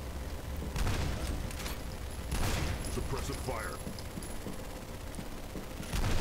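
Weapon fire in the shooter game F.E.A.R., with several loud bursts of gunfire and booming impacts spread across a noisy battle mix, under a layer of game sound and voices.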